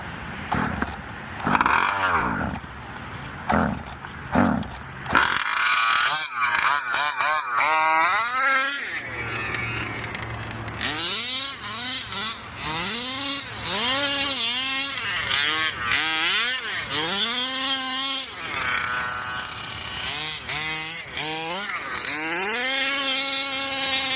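A methanol-fuelled engine with a ported throttle body, Kraken Velsa build, held at open throttle for several seconds. It gives a loud, sustained, wavering high roar that surges and dips repeatedly, with rough bursts at the start.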